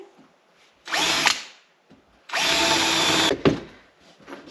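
A power drill drives a stainless screw into a cedar herb planter in two bursts, a short one and then a longer whining run, each ending abruptly, close and loud with no talk.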